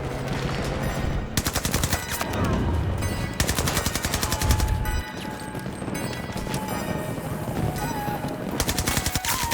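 Rapid automatic gunfire from a weapon in the video game Battlefield 2042, loud and close, firing in sustained bursts with brief pauses, layered over dense battle noise.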